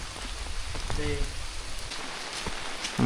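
Rain falls steadily in a forest of Kep National Park, Cambodia, a constant near patter on the surrounding surfaces with a few faint background sounds.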